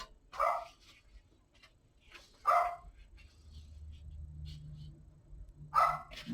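A dog barks at something outdoors: three short bursts of barking spaced a couple of seconds apart, fairly near and moderately loud, over a low indoor hum.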